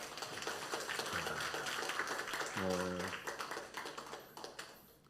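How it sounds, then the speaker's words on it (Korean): A church congregation claps at a Thanksgiving Sunday morning service, a dense spread of hand claps filling the room for several seconds, mixed with room murmur and a brief sung or spoken tone, fading toward the end. "하나님께 영광의 박수 돌리겠습니다"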